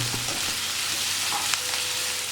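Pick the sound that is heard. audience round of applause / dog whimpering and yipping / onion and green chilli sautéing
onion and green chilli sautéing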